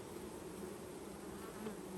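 Honey bees buzz densely around hive frames as a swarm catch is settled into an apiary, a steady close-up drone without breaks and with no voices.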